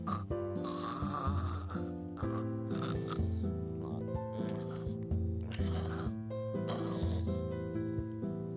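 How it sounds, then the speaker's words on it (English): Rhythmic snoring from a character in the video game World End Syndrome, repeated snorting inhalations over a steady game music backdrop, moderately loud with no talk. "I can hear his snoring all the way upstairs."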